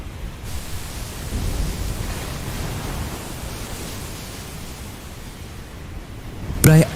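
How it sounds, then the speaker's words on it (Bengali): Cartoon-style storm effect: a steady roaring wash of wind and rain noise beating on a tin roof, continuous and loud throughout, with a brief sharp burst near the end. "বাইরে তখন শুধু ঝড়ের গর্জন আর টিনের চালের বিকট শব্দ।"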